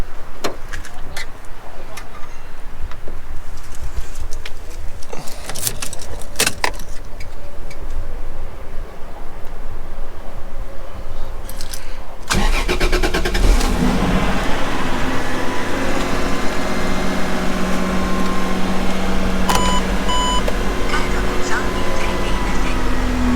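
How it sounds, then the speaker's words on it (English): A Toyota Supra engine cranks and catches around the midpoint, then settles into a steady, fairly quiet idle with a low continuous rumble; the first half is quieter ambient noise with scattered ticks and clicks. "Start the Supra up real quick."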